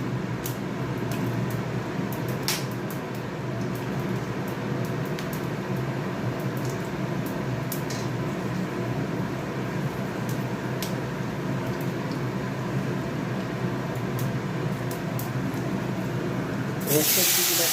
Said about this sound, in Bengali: একেবারে শুকনো না করে পাঁচফোড়ন দিয়ে দিলাম সর্ষের তেল দিয়ে দিলাম